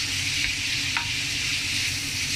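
Sliced pork shoulder sizzles in a pan with bacon, gammon and garlic as it is stirred, a steady close frying hiss with faint scraping and no talking.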